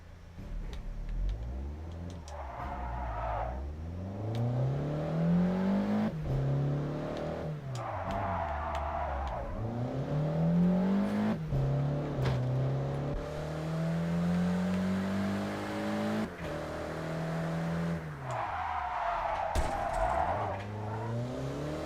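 A Mazda RX-8's engine revs and drifts in JDM: Japanese Drift Master, its pitch rising and falling in repeated sweeps with bursts of tire noise, loud and steady from start to finish.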